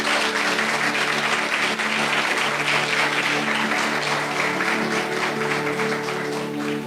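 A church congregation applauds loudly and steadily, a dense wash of many hands clapping at once, with a low sustained tone underneath throughout.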